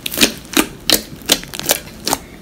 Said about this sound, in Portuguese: a minha slime, gente, ela tá fazendo clique